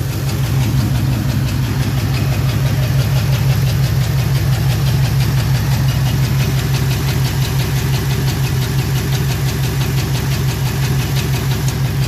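An LS4 engine with an injector problem idles rough and loud, its low, uneven pulsing misfire rhythm repeating steadily and close by throughout, with no talking.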